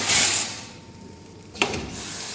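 A vertical packaging machine with multiple spiral vibration feeders packs screws, nuts and dowels, giving short bursts of hissing air and a quick mechanical clatter, close and fairly loud, with no voices.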